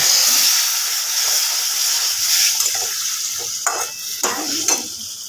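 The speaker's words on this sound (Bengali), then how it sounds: "এখানে আমি যে জলটা গরম করেছিলাম অল্প একটু দেবো" Hot water poured into a pan of frying masala with potatoes for a Bengali egg curry, a loud steady sizzle and hiss that fades slightly, with a few sharp spits and crackles near the end.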